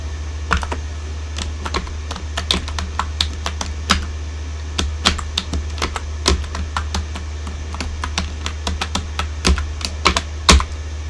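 Close, crisp keystrokes on a computer keyboard come in uneven bursts of tapping over a steady low hum, with no talk.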